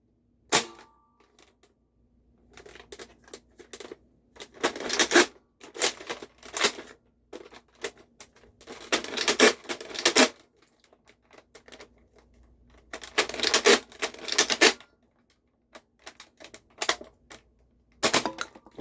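A Nerf Flipshots Flip-32 blaster firing with both triggers, with several bursts of sharp mechanical clatter and popping separated by quiet gaps, close and loud, with no talk.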